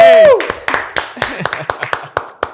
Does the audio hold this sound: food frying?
no